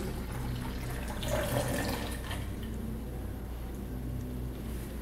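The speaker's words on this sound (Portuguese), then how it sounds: "Coloque agora 250 ml de leite." Milk pours into a blender jar already holding warm water, a soft, steady liquid trickle and splash running for a few seconds, quiet and close.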